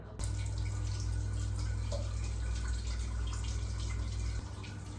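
Water leaking from a toilet runs in a steady, continuous hiss and trickle with a low hum underneath, close by and fairly loud, without talk.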